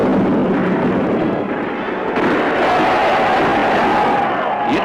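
Dense battle din from a staged film of the storming of the Winter Palace, a loud continuous roar of crowd shouting, gunfire and blasts that persists with no pause, with a steady tone emerging later in the mix.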